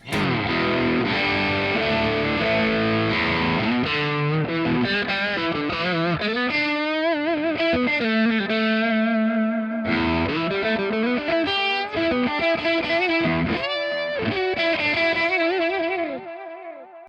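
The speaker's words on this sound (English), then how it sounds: "Let's just hear the amp and then I'll kick some delay in." Distorted electric guitar through a modeled amp and cabinet, sustained chords and melodic lines, later thickened by repeating tape-delay echoes, loud and continuous.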